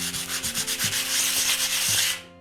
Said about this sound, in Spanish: con una lija fina de pared es suficiente. Vamos a lijar hasta que veamos que ese polvillo desaparece